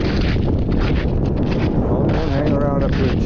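Wind gusts across the open summit of Torpy Mountain, buffeting the microphone in a loud, rumbling roar that stays steady throughout, with a voice speaking partly under it near the end.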